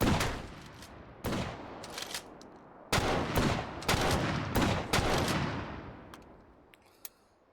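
A riot gun firing in the VR game H3VR, several heavy booming shots spaced about a second apart, each with a long echoing tail, the last ones fading into quieter clicks.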